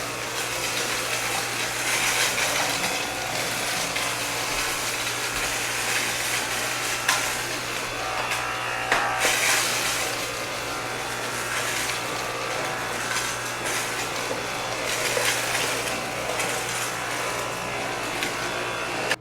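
Dyson V8 cordless stick vacuum runs continuously during a floor cleaning test, giving a steady close-up motor whir and airflow hiss with occasional clunks as it moves across the floor; no voices are heard.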